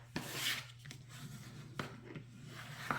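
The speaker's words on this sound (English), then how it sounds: "give it a good burnish with my bone folder" Bone folder rubbed firmly along the crease of a folded paper card makes soft, close scraping strokes with a few sharper ticks, quiet and alone.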